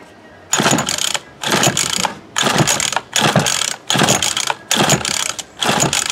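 Repeated recoil pull-starts on a Remington Rustler RM2510 lawn mower with a bad carburetor, about seven loud ratcheting pulls at a steady rhythm with short pauses between, close up, and the engine never catches.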